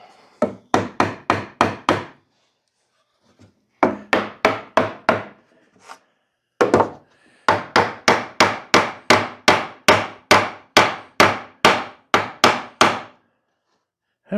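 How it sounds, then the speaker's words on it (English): Rapid hammer blows strike wood on a table saw, a close series of sharp, evenly spaced whacks in several runs of about five to twelve hits, separated by short pauses. "Hammering on my table saw."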